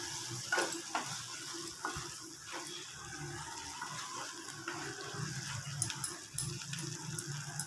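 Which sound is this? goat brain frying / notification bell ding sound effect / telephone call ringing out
goat brain frying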